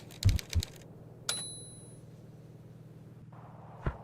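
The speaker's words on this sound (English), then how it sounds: "Do I hear your IRL keyboard? Or is that the typewriter? That's the typewriter." An in-game typewriter from the Ling mod in a Minecraft server clacks in a few quick keystrokes, then a single ding-like strike and a later tap, over a low steady hum.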